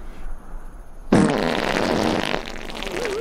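A comic fart sound effect: a sudden, loud, drawn-out blast lasting over a second, then fading into quieter background noise.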